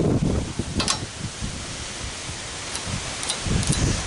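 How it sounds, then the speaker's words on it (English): Gusty outdoor wind buffets the microphone in rough, uneven rumbles and rustles, loud and continuous for about four seconds with stronger blasts near the start and end. "That wind is gusting today."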